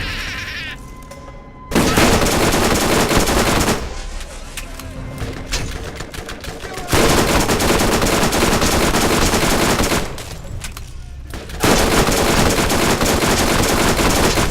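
Rapid automatic fire from the Stinger gun in Borderlands, three long sustained bursts of dense, buzzing shots with short pauses between them, loud and close.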